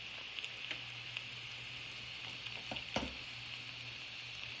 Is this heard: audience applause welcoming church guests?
no